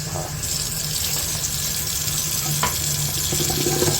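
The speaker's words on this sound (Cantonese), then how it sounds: "一定要沖水，沖到佢冇晒泡泡為止。" Tap water runs over tricolour quinoa being rinsed in a sink. It makes a continuous close rushing and splashing stream, steady and fairly loud from start to end with no talking.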